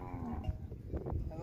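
Cattle moo on a drought-stricken farm in Brazil's Northeast, low lowing calls over a noisy outdoor background, moderately near and under faint ambient sound.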